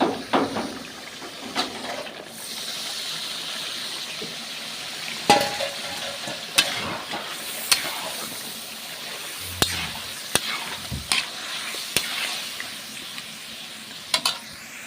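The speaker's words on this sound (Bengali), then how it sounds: "আমাদের যে মাংসটা ম্যারিনেট করা ছিল এবার এটাকে দিয়ে দেবো" Marinated meat fries in a pan at an outdoor picnic with a steady hiss of sizzling, while a spoon stirs and scrapes it in irregular sharp clacks and knocks, close and fairly loud.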